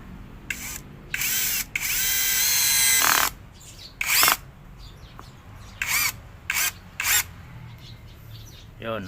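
An inexpensive cordless drill is run in repeated bursts, one long whine of a few seconds among several shorter spins and ratcheting clicks, close and loud, with quiet gaps between.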